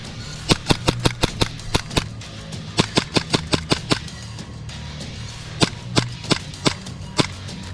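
Glock pistol shots in a video game ring out in quick bursts, sharp snapping reports in a rapid run of about six, another cluster of seven, then a few spaced single shots.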